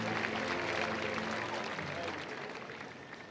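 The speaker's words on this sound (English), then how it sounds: "sports climbing Olympic champion as he receives the applause from the crowd here in Paris" A crowd applauds the Olympic sport climbing champion at the Paris 2024 Olympics, a sustained wash of clapping that gradually fades, with a voice talking over it.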